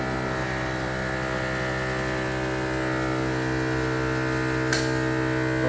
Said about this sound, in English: As soon as the pressure drops a little, that air compressor comes on, that's the noise.